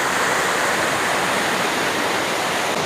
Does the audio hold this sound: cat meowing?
no